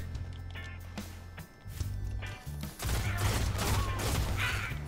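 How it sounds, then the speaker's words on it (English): Burst-fire gun in a PS4 first-person shooter, with short clusters of rapid shots in a few bursts growing louder toward the end over game ambience. "it shoots 3 or 4 shots per burst"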